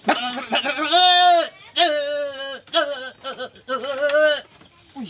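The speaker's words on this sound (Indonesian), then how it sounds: "nah iku jenenge kambing sing paling berancang" Goats at a livestock dealer's bleat loudly and close by, in several drawn-out, wavering cries with short pauses between them.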